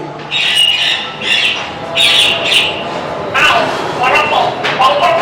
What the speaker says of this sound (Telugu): బర్డ్ నుంచి సౌండ్ వచ్చేది